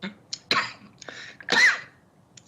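A man clears his throat with several short coughs and rasping bursts during a television interview, close and alone.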